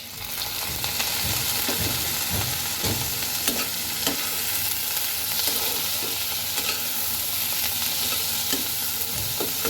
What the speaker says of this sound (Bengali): আমি এটাকে আরও ভাজবো কিন্তু এর মধ্যে আমি এখন দিয়ে দেব টুকরো করা চিংড়ি মাছ